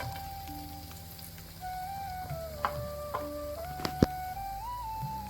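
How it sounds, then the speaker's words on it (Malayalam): Two medium onions, thinly sliced lengthwise, fry in butter for paneer butter masala, giving a soft, steady patter of sizzling with a faint tonal hum behind it and a few small pops. "ബട്ടർ ചേർത്ത് കൊടുത്തതിന് ശേഷം നമുക്ക് മീഡിയം സൈസിൽ 2 സവാള ചെറുതായിട്ട് നീളത്തിൽ അരിഞ്ഞത് ചേർത്ത് കൊടുക്കാം."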